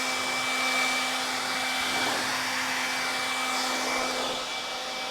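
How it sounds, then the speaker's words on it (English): A blower whooshes steadily as it dries a car after a wax application, a continuous airy roar with a fixed hum running through it, fairly close and unbroken for the whole stretch. "I didn't get a new blower. I just am using a different blower."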